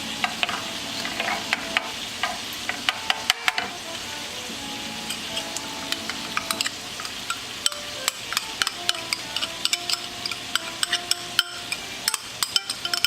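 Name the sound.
butter sizzling in frying pan for pesto steak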